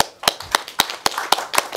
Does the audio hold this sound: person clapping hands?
yes